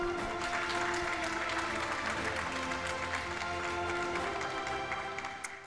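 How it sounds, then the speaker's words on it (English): Steady audience applause at a demo day evening event, sustained clapping from a fairly large crowd at moderate distance that begins to taper near the end, with no talking over it. "Please give a big round of applause to founder and director of MIT Space Exploration Initiative, Ariel Ekblaw."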